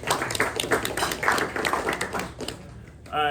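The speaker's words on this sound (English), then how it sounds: "Let's give them a quick round of applause." Audience applause at a press luncheon, a dense, steady wash of many hands clapping for about three seconds, filling the room evenly before tapering off at the end.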